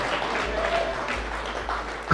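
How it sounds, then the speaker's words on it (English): Audience at a tech meetup applauding, a steady wash of clapping from many hands that holds evenly throughout, with faint voices beneath. "You guys applaud Matthew"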